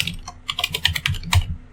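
Someone types in short irregular bursts on a computer keyboard, with close, crisp key clicks and a couple of heavier presses, and no talk over them.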